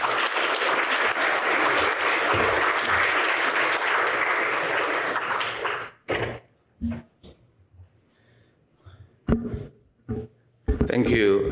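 Lecture audience applauding as an architect is welcomed on stage, a full burst of clapping for about six seconds that stops abruptly, followed by scattered sounds and the start of talking.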